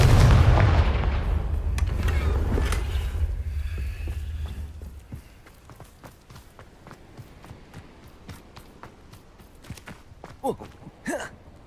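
A Confringo spell blast in Hogwarts Legacy erupts as a loud, booming burst at the start, rumbling and fading over several seconds, followed by quieter footsteps and small sharp effects.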